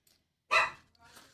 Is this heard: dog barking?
yes